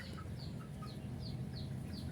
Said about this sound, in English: These birds, they are 3 weeks old.